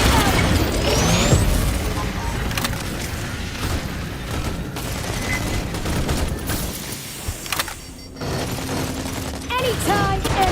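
Aliens Fireteam Elite 2 combat, with steady gunfire and heavy booming blasts layered over mechanical noise, loud and continuous, briefly dipping before resuming.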